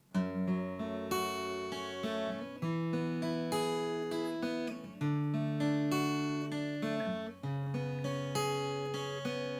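An acoustic guitar strums chords in a steady rhythm, the chord changing every couple of seconds, played up close with no voices.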